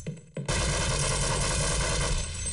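Sustained rapid gunfire from a weapon in Half-Life 1 bursts in loud and close after a brief quiet moment, then keeps hammering densely without pause to the end.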